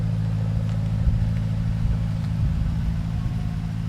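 A Porsche Panamera Turbo S hybrid idles with a low, steady engine rumble, heard close up and without speech, with a few faint clicks over the drone.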